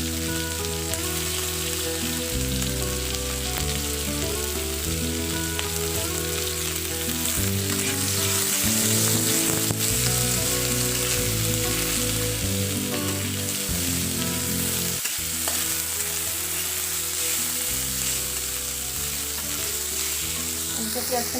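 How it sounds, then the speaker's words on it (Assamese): Sliced onions fry in hot oil in a pan, a dense, continuous close-up sizzle that persists throughout while background music plays. "পিঁয়াজখিনি ভাজি লওঁ"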